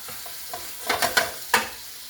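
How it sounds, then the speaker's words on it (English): Smoked sausages sizzle as they brown in a pan over medium heat, with a few close clicks and scrapes of a utensil stirring. "But see how my sausages are browning up?"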